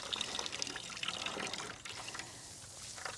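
Water trickles and splashes out of a partly frozen garden hose with ice inside, a faint, steady running and dribbling sound outdoors that thins a little toward the end, with no talking.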